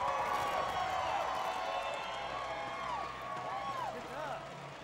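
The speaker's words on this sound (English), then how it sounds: "the crowd loves it here at Lindquist Field in Ogden" Stadium crowd cheering at Lindquist Field in Ogden, Utah, during a USA versus China recurve men's team archery gold match, a steady roar with whistles rising and falling, heard under commentary.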